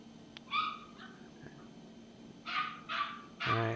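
A dog barks nearby in a few short, sharp bursts, one early and three close together near the end, with quiet gaps between them.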